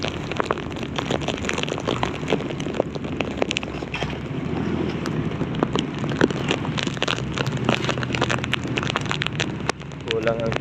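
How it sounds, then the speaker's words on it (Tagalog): Steady rain patters and taps on a surface close by, a dense crackling hiss with scattered sharper drops, alongside faint wind. "Tapos kinagabihan, ulan na naman. Hanggang ngayon, ulan."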